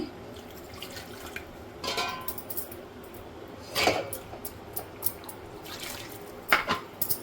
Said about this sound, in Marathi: आता हे मिक्सरच्या भांड्यात थोडंसं पाणी टाकते